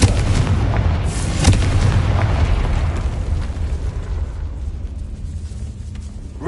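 A Confringo blasting spell explodes in a Harry Potter video game: a loud, close burst that gives way to a heavy, rumbling roar. The roar fades slowly over several seconds, with no voices.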